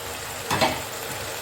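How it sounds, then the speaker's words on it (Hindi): Potatoes and fenugreek leaves fry in hot oil in a pan, giving a steady broad sizzle with a brief louder flare of hissing, close up and with no talk. "हमने अपने आलू भूनने के थोड़ी देर बाद इसमें जाएगी ये मेथी"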